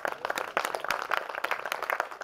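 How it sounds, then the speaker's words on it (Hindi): Audience applause during a Hindi spiritual discourse, dense overlapping clapping that stays fairly steady and moderately loud for a couple of seconds, with no voice over it. "ताली जोर से बजा सकते हैं।"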